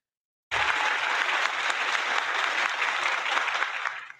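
Steady, dense applause from many hands starts abruptly after a half-second of silence and holds at an even, moderately loud level, then tapers off at the very end.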